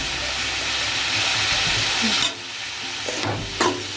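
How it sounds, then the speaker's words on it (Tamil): Cut brinjal sautéing in a pan gives a steady, close sizzling hiss for about two seconds, then drops away to quieter crackles broken by a couple of short knocks from stirring. "இப்போ இதையும் சேர்த்து ஒரு 1 minute சாட்டே பண்ணிக்கோங்க."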